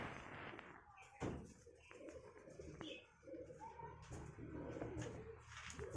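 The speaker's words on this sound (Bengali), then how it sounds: "কত সুন্দর পায়রা দেখে নিন" High flyer pigeons cooing softly in low, repeated throaty calls, mixed with thumps, flutters and knocks nearby; faint voices in the background.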